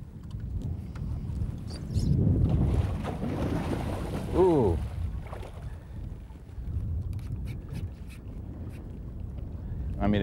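A boat motor runs steadily on open water while a muskie is landed, a low continuous drone under wind buffeting on the microphone, water noise and people talking.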